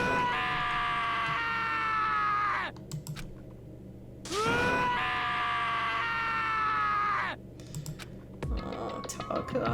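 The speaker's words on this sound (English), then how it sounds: "As Taka's sad screams invaded our skulls" A character's scream in the video game Danganronpa: Trigger Happy Havoc, long, loud, anguished wails that slide downward, two sustained cries separated by a brief pause, with short clicky sounds and a low hum between.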